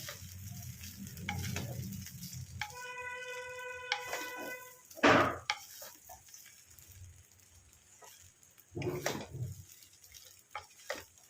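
Cheera pulao, a flattened-rice pulao, being stirred and mixed in a hot pan: a quiet sizzle with scattered spatula scrapes, one louder scraping burst, a brief tonal whine in the background and low rumbling underneath, close and fairly faint.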